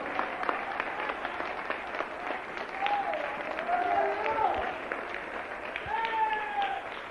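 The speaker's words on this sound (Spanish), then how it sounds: "Denle un aplauso a Cristo" A church congregation applauds steadily through the stretch, dense clapping with voices and shouts calling out over it, fairly close and sustained.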